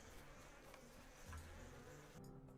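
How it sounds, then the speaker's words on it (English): Wild bees buzz in Lord of the Rings Online, a steady low insect drone running throughout with no talk over it. "So I've reclaimed some wild bees."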